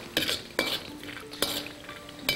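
Raw cashews frying in oil in a pan, a soft steady sizzle under periodic sharp scrapes and clinks of a utensil stirring them.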